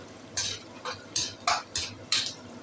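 Kofta mixture frying on a medium flame, a soft sizzle under five or six sharp scraping stirs of a spoon against the pan in quick succession.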